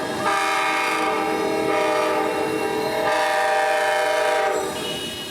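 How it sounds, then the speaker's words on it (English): An Amtrak train led by a pair of P42 locomotives passes through a rail yard in Jacksonville, its horn blaring loud and sustained in several long blasts over the rumble of the moving train. "Amtrak PO91 would be rolling through with a lovely pair of P42s"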